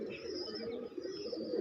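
A large flock of domestic pigeons feeding by a wall makes a steady, continuous chorus of overlapping coos, close and even in level, with no talk.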